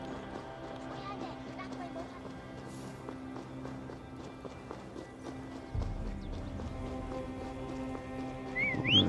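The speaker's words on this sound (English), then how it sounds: "There's my horse." Hoofbeats of a horse in the Assassin's Creed Valhalla video game, a steady run of clip-clop steps under continuous game music and ambience, growing louder toward the end.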